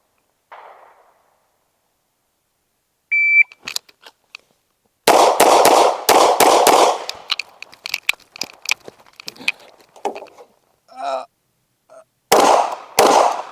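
Gunshots during a timed shooting range drill, a string of sharp, loud cracks spread across several seconds in uneven bursts, with short quiet gaps between them.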